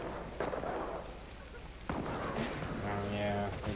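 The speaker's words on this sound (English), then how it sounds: "That's a lot of shooting." Distant gunfire crackles in the video game The Last of Us Part II, a few muffled shots and bursts beneath a low ambient rumble, with game voices and music emerging toward the end.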